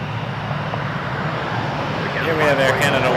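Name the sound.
Air Canada Airbus A321 jet aircraft at Toronto Pearson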